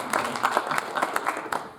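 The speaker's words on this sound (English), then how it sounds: "So let's give Andrew a round of applause." Panel discussion audience applauding for Andrew, a brief round of brisk, fairly close clapping with individual claps audible.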